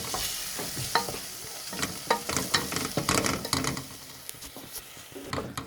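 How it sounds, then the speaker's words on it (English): Eggs sizzle in a hot pan while a utensil scrapes and stirs them, producing irregular clacks and scraping strokes over a soft, steady frying hiss, fairly quiet and close. "Keep stirring up each egg so that it doesn't stick too much at the bottom."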